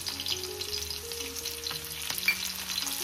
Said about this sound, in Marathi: तर चला आता आपण कढीपत्ता टाकून घेऊ.